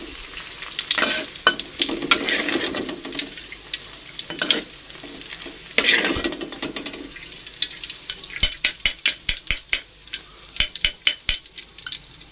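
Tempeh fries in hot oil with a continuous crackling sizzle, broken by loud repeated metallic scraping and clinking of a spatula against the pan, close up, with no talk.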